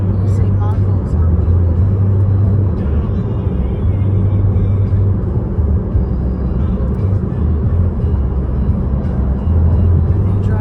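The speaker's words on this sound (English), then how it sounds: "They drive big Harley Davidsons." Several big Harley-Davidson motorcycles ridden by leather-vested bikers rumble past on a highway, a loud, continuous low engine drone close by that swells and eases without letup.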